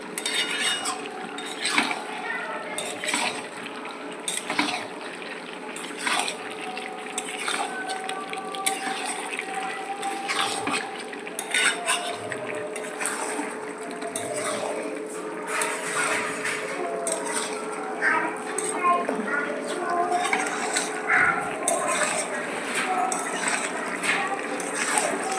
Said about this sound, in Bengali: অল্প কটা আলু দিয়ে এইভাবে একটু নাড়াচাড়া করছি।